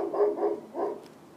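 Indoor dog barking, three quick close barks in a short burst, fairly loud and alone.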